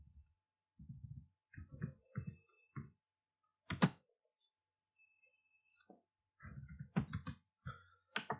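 Keystrokes on a computer keyboard while typing a deliberately misspelled word in Microsoft PowerPoint, heard as short clustered bursts of clicks with pauses between groups, close and fairly quiet.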